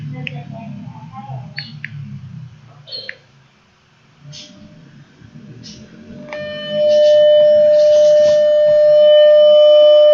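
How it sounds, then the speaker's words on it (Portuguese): A steady 600 Hz pure tone from a tone generator sounds loud and continuous in the second half, after scattered faint clicks and background noise during a physics lecture. "Esse é um som de 600 Hz."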